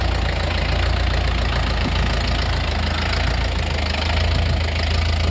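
A Lovol 454 tractor engine idles steadily and loudly close by, with a low, knocking rumble that holds constant throughout, no voices.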